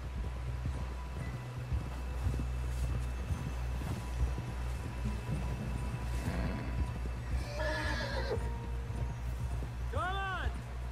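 Horse hooves clip-clopping steadily over a low rumble in the video game Red Dead Redemption 2, then the horse whinnies near the end; a voice speaks briefly in between.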